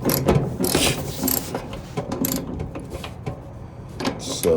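Idler pulley on a Whirlpool gas dryer rattling as it is moved up and down by hand: a run of close, clicking and clunking metallic knocks with irregular rhythm, no talking.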